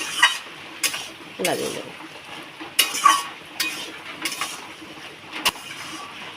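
Fried spices, chili, cumin and garam masala scraped and stirred in a pan with greens and trimmings, giving a series of sharp utensil strokes and clatters over a low sizzle while someone speaks.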